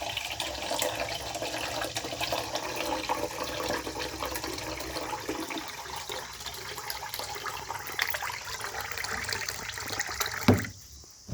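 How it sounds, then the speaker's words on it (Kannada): Soaked rice is swished and rinsed by hand in water, making continuous close sloshing and trickling sounds with a brief clunk near the end. "ನೆನೆಸಿಟ್ಬಿಟ್ಟು ಆ ಅಕ್ಕಿನ ಈ ಥರ ಸುರ್ಕೊಳ್ಳಿ"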